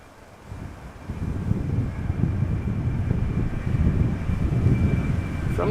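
Aircraft departing Amsterdam Schiphol Airport, a steady low rumbling roar that swells in after a quiet start and holds at a distance, with wind buffeting the microphone.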